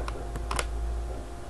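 A few quick computer keyboard keystrokes, close and fairly soft, over a steady low background hum with no talking.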